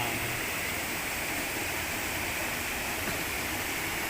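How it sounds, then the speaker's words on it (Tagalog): Water pouring steadily from a large spring high in the mountains, a constant broadband rush that holds at an even level for the whole stretch, with no voices over it. "So yung pinanggagalingan po ng tubig na ito ay isang malaking bukal"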